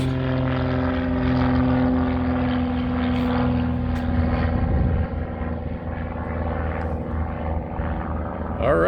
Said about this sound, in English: We'll get an ID on this aircraft as it comes by.